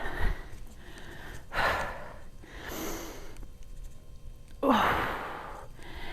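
Heavy, effortful breaths during a workout come in several loud puffs and exhales, close to the microphone, with quiet pauses between them.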